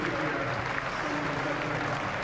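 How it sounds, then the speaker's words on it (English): A distant crowd applauds along the riverbank during a single sculls rowing semi-final at Henley regatta, a soft, even patter of clapping that stays faint and steady. "the crowd seem to be appreciating the quality of the rowing that they're seeing right now"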